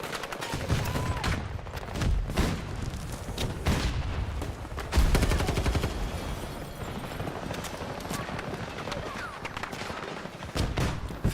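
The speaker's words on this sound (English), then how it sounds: "What on earth is that shooting at me?" Repeated automatic gunfire bursts, with a heavy boom at one point, from enemy fire in the video game Battlefield 2042. The shots come in loud, dense volleys across the whole stretch.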